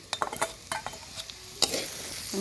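Fish and boiled cauliflower stems frying in a pan on a clay stove, with scattered sharp scrapes and clinks of stirring over a soft sizzle, no talking.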